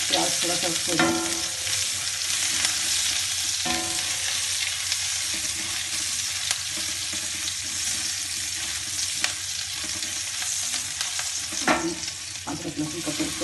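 Onions sizzling in ghee in a pan on the stove, a steady close crackle with occasional clinks and scrapes of a stirring spoon.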